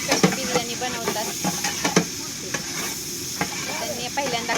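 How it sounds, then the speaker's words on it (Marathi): Onions sizzle in hot oil in a large cooking pot for biryani at a village fair, with a continuous frying hiss and repeated sharp scraping stirs, while voices talk nearby. "त्यांनी पहिल्यांदा कांदा टाकलेला आहे तेलामध्ये।"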